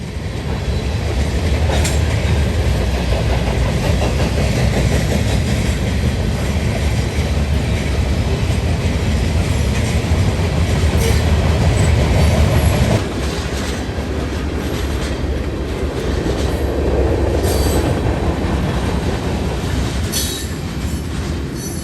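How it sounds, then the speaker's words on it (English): Norfolk Southern eastbound manifest freight train with a rebuilt AC44C6M locomotive rolls past under Conrail signals at speed, a loud continuous rumble of wheels with clickety-clack and occasional squeals that drops in level partway through. "Under the Conrail signals at CP162 heads NS eastbound Manifest 178"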